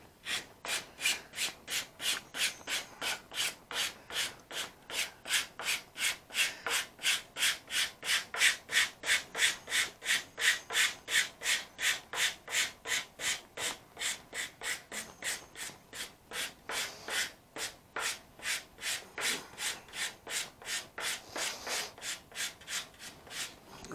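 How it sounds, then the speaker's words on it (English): Sandpaper feather-edges silk covering on a model aircraft wingtip. The rubbing is close and steady, with rapid even back-and-forth strokes that continue without a break. "Take some sandpaper. It doesn't matter what grit it is."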